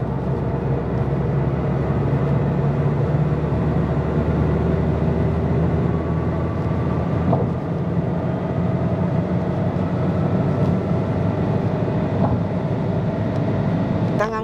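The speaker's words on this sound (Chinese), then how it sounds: "我现在准备上高速了，我们就来试一下它的马力吧。" A seventh-generation 2014 Volkswagen Golf GTI accelerating on a highway, heard from inside the cabin as a loud, steady engine and road drone that continues unbroken throughout.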